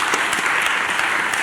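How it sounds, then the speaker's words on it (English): An audience at a panel discussion event claps, producing a steady, dense patter of applause that fills the whole short stretch without any voices. "let's clap"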